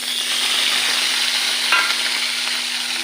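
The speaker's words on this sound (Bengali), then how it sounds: "এবার চিংড়ি মাছগুলো একটু ভেজে নেব।" Shrimp rubbed with salt and turmeric fry in oil in a karai, making a loud, continuous hiss of sizzling with a short stirring scrape partway through.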